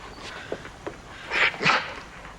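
A dog lets out a few soft, brief whimpering yips, faint at first and then louder in two quick cries near the middle, with light movement noise around it.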